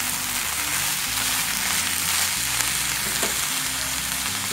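Corn kernels fry in a soup pot with a steady, close sizzle and soft crackling that runs throughout without pause.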